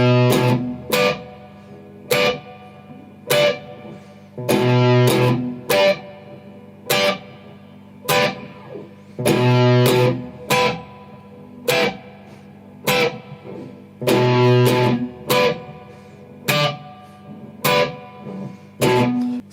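Electric guitar in standard tuning playing a verse, with distorted, effects-laden chord stabs and palm-muted hits in a syncopated rhythm, close and loud, with no talk.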